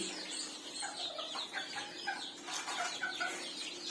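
A cluster of young black-tail white Japanese bantam chicks peep and chirp in quick, overlapping high notes, close and fairly soft, with no talking.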